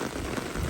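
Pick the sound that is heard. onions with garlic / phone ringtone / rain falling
rain falling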